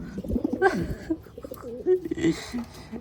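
A black velvet racing pigeon coos nearby in low, throaty, repeated rolling calls, with a person's voice briefly mixed in at the start.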